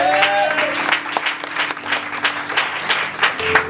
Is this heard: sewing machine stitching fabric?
no